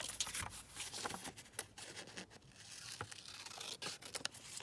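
Scissors trimming a laminated plastic envelope pocket: faint, close crinkly cutting and scraping with scattered sharp snips, quiet and steady, with no one speaking.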